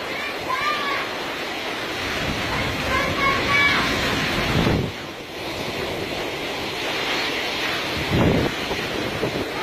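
Hurricane Irma winds in Turks & Caicos buffet a car with a loud, constant roaring rush, swelling into heavier gusts around the middle and near the end.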